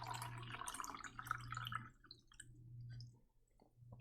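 Water drips in a quiet bedtime ASMR setting, several small clicking drops falling close and soft in an irregular rhythm over a steady low hum, with no talk.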